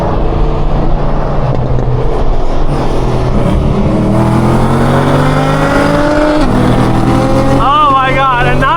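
A Nissan R35 GT-R and a Camaro ZL1 accelerate hard along a Florida backroad, with loud, continuous engine drone and rising revs throughout, plus a higher whining sweep near the end.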